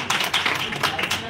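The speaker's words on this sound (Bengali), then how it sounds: "জন্য একবার হাততালি হয়ে যায়" An audience at a district social media conference in Baruipur breaks into applause, a brief burst of many hands clapping at once, fairly loud and close, with uneven swells.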